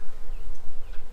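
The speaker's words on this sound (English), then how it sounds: "I got some mad bees right now around me" Angry honey bees swarm around a beekeeper, giving a close, fluctuating buzz of wingbeats that rises and falls as individual bees pass by.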